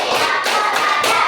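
A group of schoolchildren claps together in a classroom clapping game, three loud, close bursts of massed handclaps spaced evenly apart.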